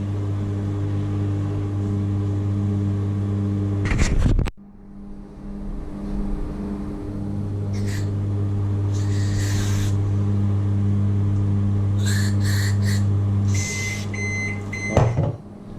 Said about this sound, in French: Allez hop, dans le micro-ondes.